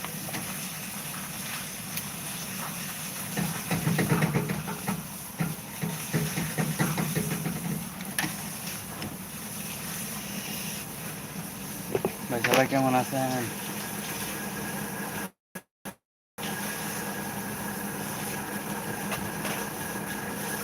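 Rain falls outdoors as a steady, moderate broadband hiss that continues throughout, with someone talking over it and brief drops in the sound near the end.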